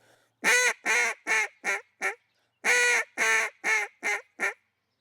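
A handheld duck call imitates a hen mallard with five loud, nasal quacks in a descending cadence, then repeats the five-note sequence after a brief pause, close and clear with no talking.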